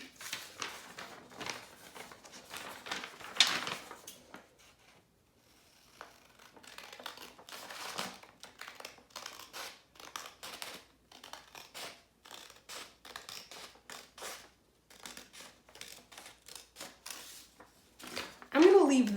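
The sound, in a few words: scissors cutting paper animal cards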